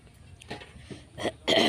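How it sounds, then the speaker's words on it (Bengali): A woman coughs and clears her throat indoors, giving a few short, rough bursts close to the microphone, with the last one loudest. No other voices. "কাশিটা খুব বেড়েছে আমার"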